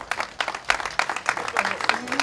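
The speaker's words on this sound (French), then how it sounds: "on l'applaudit très fort" An audience claps at an outdoor ceremony in Morzine unveiling a bronze plaque cast by the Paccard foundry for the town's carillon: irregular, fairly close hand claps in a short, steady burst.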